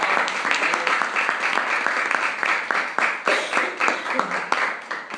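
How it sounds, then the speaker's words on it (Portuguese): A church congregation applauding after a scripture reading at a Catholic-style service: loud, close, dense clapping with a strong rhythmic pulse, as if many hands clap together in time, continuing throughout. "Eu convido você a aplaudir a palavra de Deus."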